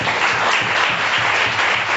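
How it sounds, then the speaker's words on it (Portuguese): Church congregation applauding during an evangelical worship service, a loud, steady wash of many hands clapping throughout with no pauses. "Aplauda o Senhor Jesus."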